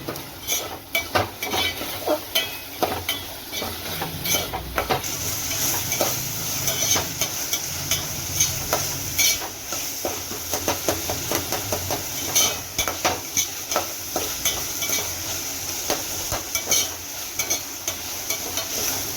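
Vegetables for kurma sauté in a pan with salt and turmeric, giving a steady soft sizzle punctuated by frequent scraping and clinking stirs of a utensil against the metal pan.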